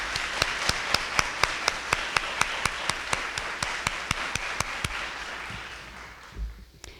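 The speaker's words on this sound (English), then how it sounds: "Can we give them all a round of applause," Audience applause at a Teacher of the Year ceremony for school district employees: a dense wash of clapping with distinct sharp claps about twice per second, fading out toward the end.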